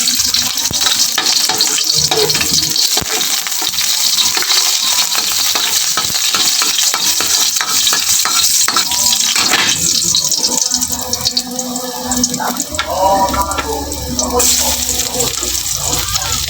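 Garlic fries in a pan with a loud, steady sizzle and stirring scrapes, and the texture shifts partway through as more ingredients go in; a voice speaks briefly over the cooking.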